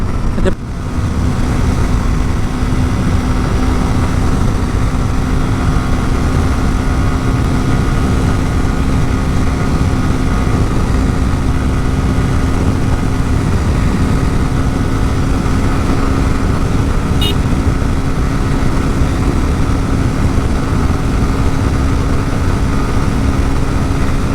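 A motorcycle engine running at high speed in fifth gear, a loud continuous drone with a steady pitch and heavy wind rush, unbroken for the whole stretch.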